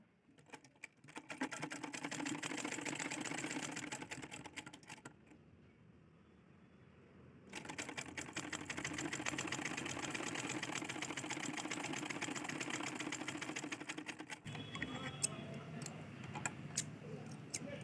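A domestic sewing machine stitches a blouse hook strip in quick rattling bursts, with a pause of a few seconds between two long runs, then a quieter ticking tail.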